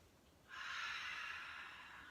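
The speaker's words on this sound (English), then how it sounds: "Big deep breath." A single deep breath taken through the nose during a beginner's yoga flow, a soft airy inhale starting after a brief pause and trailing off slowly, close and quiet.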